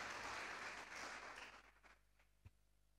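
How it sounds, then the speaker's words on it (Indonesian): Applause from a church congregation during a sermon, fairly faint, fading after a second and a half into a quiet room with a soft thump near the end. "Jangan ragu-ragu untuk tepuk tangan bagi Tuhan dong."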